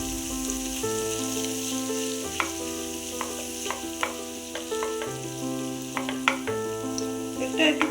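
Tomato paste fries in a pan for a katla posto dish, a close sizzle and scraping stir with intermittent spatters over a steady tonal hum, no voices.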